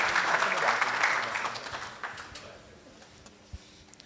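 Scattered applause from a small audience at the Premio Asimov 2019 award ceremony, honouring a winner who is absent; the clapping is fairly loud at first, then thins and fades out, leaving a single late clap.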